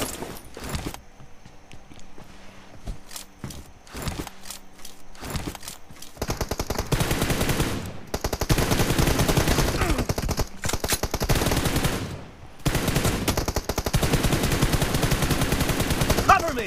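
PUBG Mobile gunfire plays as rapid automatic bursts and dense sustained volleys of shots, loud, with short pauses between bursts and occasional voices over the game sound.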